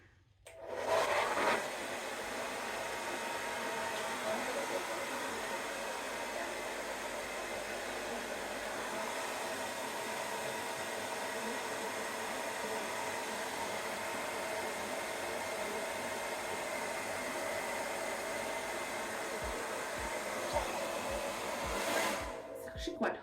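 Hair dryer on its highest heat setting blowing on damp curly hair, a loud, steady whir that runs unbroken for over twenty seconds and starts and stops abruptly at the ends.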